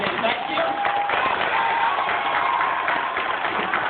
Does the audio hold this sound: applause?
yes